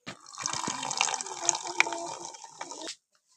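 Homemade Sprite pours into an empty Sprite bottle in a steady, splashing stream of about three seconds that stops abruptly, close and fairly soft, with no talking.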